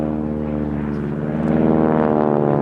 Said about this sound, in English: Letting the aeroplane accelerate down the hill